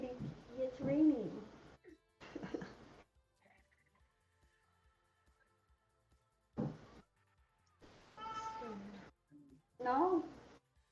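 Short cat meows in a quiet room alternate with a person speaking, the calls fairly close and moderately loud between stretches of talk.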